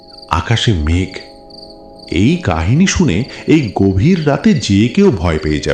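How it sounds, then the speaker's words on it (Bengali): Crickets chirp from a forest at night, a steady high trill running beneath continuous narration by a voice. "ঝিঝি পোকার ডাক ভেসে আসছে জঙ্গল থেকে"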